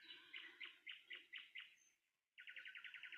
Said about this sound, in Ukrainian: Співають солов'ї